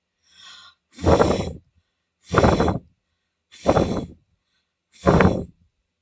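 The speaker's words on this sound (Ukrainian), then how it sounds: "Знову здуємо. Набирайте у легені повітря." Deep breaths during a breathing exercise: a faint intake followed by four strong, evenly spaced blowing exhales, each lasting about half a second, close and clear with silence between them.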